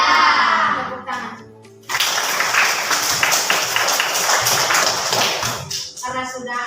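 Classroom of students clapping hands together in a dense burst lasting several seconds, following a teacher's speech and fading as talk resumes.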